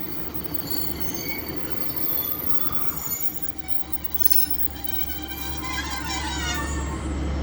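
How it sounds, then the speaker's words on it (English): A Class 195 diesel multiple unit on a Leeds to Chester service runs through Castleton station without stopping, a steady loud rumble with wheel squeal and rail noise that holds for the whole stretch. "Just passing through there is a Class 195 from Leeds to Chester."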